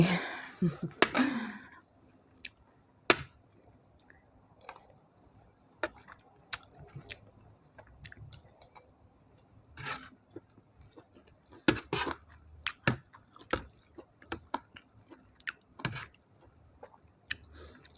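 Someone eats braised pork leg with rice, with soft intermittent chewing and biting sounds, close and quiet, scattered through a mostly hushed room, with a brief voice near the start.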